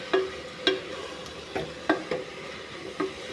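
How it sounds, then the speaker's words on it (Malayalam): A spoon stirring onions and tomatoes for chicken curry in a pan: half a dozen evenly spaced knocks and scrapes against the metal over a faint sizzle, close and fairly quiet, with no talking. "ഒന്ന് ഇളക്കി കൊടുക്കുന്നുണ്ട് കേട്ടോ."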